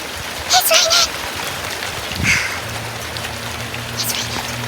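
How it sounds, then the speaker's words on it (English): Rain patters steadily on surfaces outdoors in hot weather, a soft, continuous hiss of drops, while excited voices break in over it a few times. "It's raining!"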